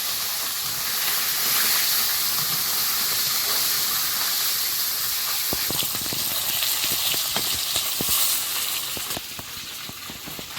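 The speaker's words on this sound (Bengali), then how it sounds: "মাছগুলো আগে ভেজে নিই তারপরে চিংড়ি মাছ ভাজবো" Fish frying in hot oil in a home kitchen hisses and sizzles loudly and continuously, with scattered sharp spatters and pops growing more frequent toward the end, and no voices.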